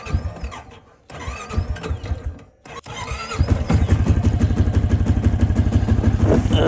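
A cold motorcycle engine revs and then settles into a steady, throbbing idle in gear. Close and loud, with a few brief pauses early on before the running rhythm takes over.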